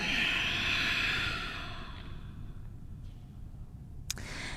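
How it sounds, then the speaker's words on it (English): A deep yoga breath in a studio class: a long, loud exhale that tapers into quieter, slower breathing, close and alone, with no talk. "Take a deep breath in and out."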